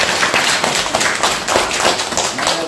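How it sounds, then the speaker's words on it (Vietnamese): A crowd claps in dense, steady applause that stays close and loud from start to finish. "Công nhận vỗ tay."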